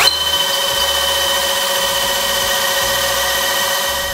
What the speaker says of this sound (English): We're going to drill with the dowel jig because this is going to give us perfectly centered holes.